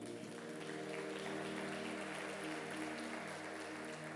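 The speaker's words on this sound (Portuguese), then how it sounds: "Aplauda o Senhor aí" A church congregation applauds during a sermon, sustained clapping at a distance under steady organ or keyboard tones, with no clear voice over it.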